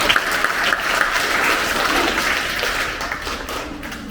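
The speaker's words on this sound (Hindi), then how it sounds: "ताली बजा के स्वागत करें।" Applause from an audience at a school Vidyarambh Sanskar ceremony welcoming a guest, dense, steady clapping that stays loud and even throughout, with no speech over it.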